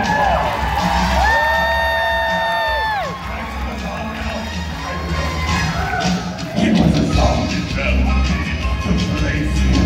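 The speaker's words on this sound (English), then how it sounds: "Give yourselves a round of applause." A crowd at a Halloween Fright Fest cabaret show at Six Flags Great America cheers and whoops loudly and continuously, with shouts rising over a sustained roar of many voices.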